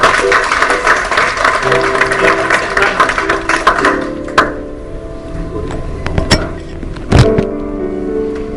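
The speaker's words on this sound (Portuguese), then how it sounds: "Uma salva de palmas para Deus." Congregation at a church service aboard the cruise ship Grand Holiday claps in a loud dense burst that tapers off after about four seconds, leaving a quieter room with a few scattered thumps.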